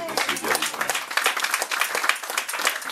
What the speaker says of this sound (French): On applaudit encore, même une fois.